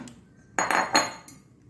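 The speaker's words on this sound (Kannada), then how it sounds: "ಮೊದಲಿಗೆ ಇದನ್ನೊಂದು ಪಾತ್ರೆಗೆ ಟ್ರಾನ್ಸ್ಫರ್ ಮಾಡ್ಕೊಳ್ಳೋಣ." Ground jackfruit batter is moved into a vessel with a few close clinks and scrapes of metal utensils against a pot, three clustered knocks and then a lighter tap, with no talking.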